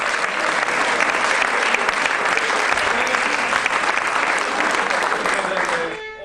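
Theatre audience in Stuttgart applauding a Turkish touring company after a performance of Eyvah Türkler Geliyor, a loud, dense clapping that holds steady for several seconds before tapering off at the end.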